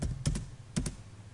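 Computer keyboard being typed on while entering commands in AutoCAD, two short close bursts of key clicks, each a quick double tap, with quiet between.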